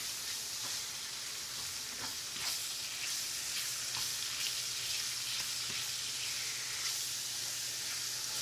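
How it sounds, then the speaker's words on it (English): Pork browning in a pan for fried rice gives a steady, dense sizzle throughout, close and even, with occasional light stirring scrapes and ticks mixed into the hiss. "Get that pork browned up."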